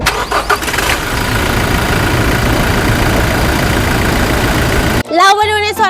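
Toyota Hilux Revo 2.4 diesel pickup from 2018 starting up after a short crank, then idling steadily and loudly up close for several seconds before a voice cuts in at the end.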